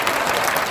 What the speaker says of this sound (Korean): 그분들 좀 한번 격려 박수 좀 해드리세요